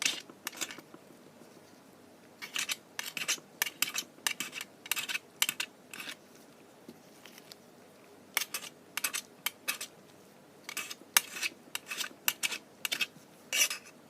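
A blade chops polymer clay into very small pieces on a hard surface, giving quick bursts of sharp, close tapping clicks separated by short pauses.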